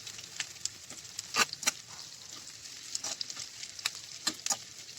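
Mustard seeds, urad dal, green chilli, onion and curry leaves frying in a pan for tempering leftover rice, giving a steady soft sizzle with scattered pops and crackles throughout.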